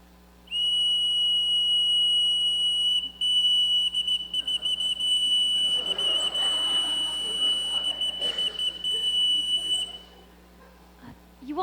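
A shrill, steady whistle blows for several seconds on a stage during a live musical performance, then stops with a few sharp breaks, leaving a faint hum behind.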